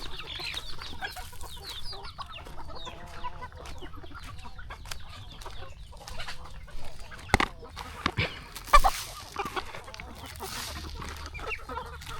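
Free-range country chickens and a rooster cluck steadily at morning feeding on a farm, a busy overlapping chorus with a few louder sharp calls near the end.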